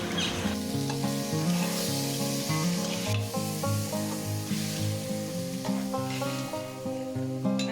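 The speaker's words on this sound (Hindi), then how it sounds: "इस तरह से इसको मिला देंगे, ये थोड़ी देर इसमें फ्राई होता रहेगा।" Chole-style masala mixture frying in a pan, a continuous sizzle with stirring scrapes under a steady musical background, no talking.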